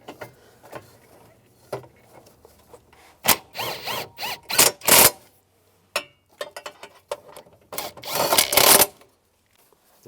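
A ratchet tightening bolts on a blend door actuator of a 2002-2009 Chevrolet Trailblazer, with short bursts of rapid clicking separated by pauses, close and fairly loud, and no talking.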